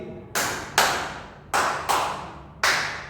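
A crowd claps in unison in a counted pattern, five loud group claps grouped unevenly in quick pairs and singles, each decaying briefly in an indoor space.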